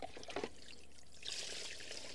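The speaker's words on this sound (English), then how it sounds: "pour some diesel through there." Diesel poured through a fuel strainer on a 60-year-old V12 two-stroke Detroit dump truck, a faint, steady trickling stream of liquid that swells briefly partway through.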